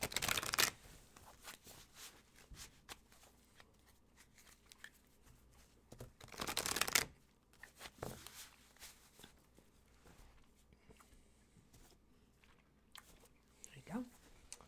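Cards riffle and slap in brief bursts amid soft rustling and handling noises, close by, with long quiet gaps between.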